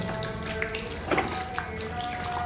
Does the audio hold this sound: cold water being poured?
yes